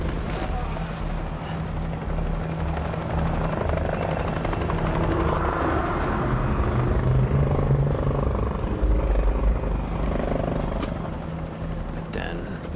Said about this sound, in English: I heard some helicopters. They were quite distant at first.